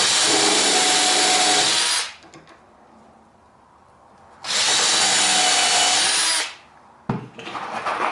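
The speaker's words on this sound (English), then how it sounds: "clamped in place, and this is like all the other holes. Drill a pilot hole." A power drill whines loudly for about two seconds while drilling a pilot hole in wood, pauses, then drills again for another two seconds, ending with a brief scrape.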